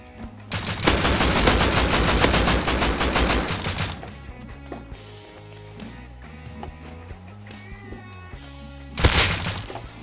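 Rapid bursts of automatic gunfire from the online multiplayer survival game Rust, a loud sustained volley at first, then quieter game sounds, and another short sharp burst near the end.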